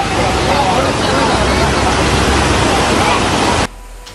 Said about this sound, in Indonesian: Sejumlah jembatan di Kecamatan Sumber juga tertutup banjir hingga sulit dilalui kendaraan.